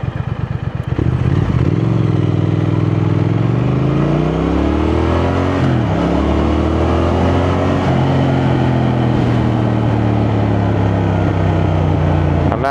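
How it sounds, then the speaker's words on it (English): A Triumph Thruxton 1200 motorcycle with stainless exhausts roars loudly and close as it accelerates through the gears, its engine note rising and dropping with each shift, sustained and throaty throughout. "Sounds lovely when that comes down off them stainless exhausts"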